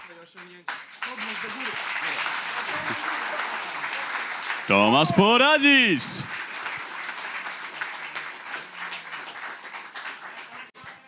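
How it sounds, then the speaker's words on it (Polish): Applause ripples through the audience at a racing-series award ceremony for a sim racer, sustained clapping under an announcer's amplified voice calling a name, swelling loudest midway before easing off. "Wielkie brawa dla niego."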